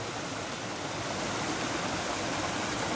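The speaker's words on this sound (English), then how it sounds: "Small waterfall up here" A small waterfall at Paint Creek, roughly 15 to 20 feet high, pours in a steady, dense rush of splashing water that stays loud and unbroken throughout, with no voices.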